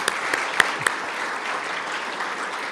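A seated audience applauds a professor retiring after 44 years at UVA, giving steady, moderately distant clapping throughout, with a few sharper claps standing out near the start.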